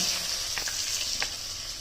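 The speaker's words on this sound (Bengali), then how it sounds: "কাজু দিয়ে দিলাম" Cashews frying in hot oil in a heated wok, a continuous bright hissing sizzle close by with a few small pops and stirring clicks.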